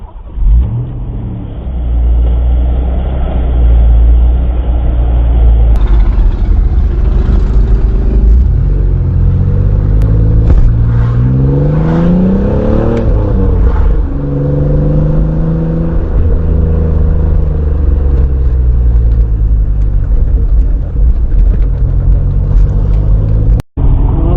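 A $500 Pontiac Fiero GT engine revs loudly and continuously, its pitch rising and falling through repeated climbs as the car drives, with a steady low rumble throughout.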